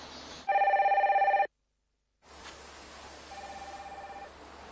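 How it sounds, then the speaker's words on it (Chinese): An indoor telephone rings in a domestic drama scene with a loud, rapidly pulsing electronic bell burst, then silence, then a second, quieter ring against faint room noise. "电话响了。"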